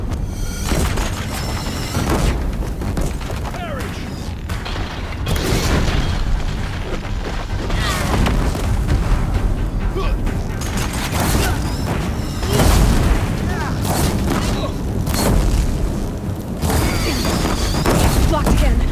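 Deathbringer machines pound a bridge with heavy fire in Horizon Zero Dawn, continuous booming blasts and bursts rolling loud and near, with a speaking voice mixed in amid the barrage.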